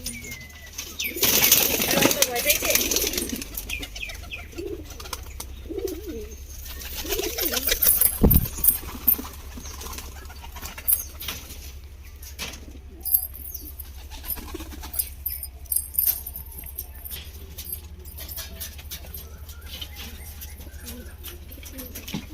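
A flock of pigeons coos in low, throaty calls over a long stretch, with bursts of wing flapping and scattered rustles nearby and occasional voices in the background.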